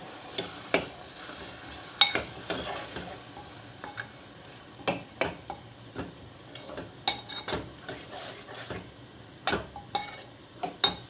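Soaked moong dal tipped into a hot pan of cooked masala and stirred, with repeated sharp scrapes and clinks of a spoon against the pan over a soft sizzle, no speech.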